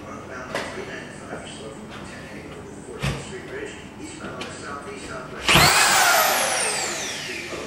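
A RotoZip rotary tool cuts into drywall with a buzzing, grinding whir and scattered knocks, then a loud, high whine that bends downward as the bit spins, with faint voices in the background.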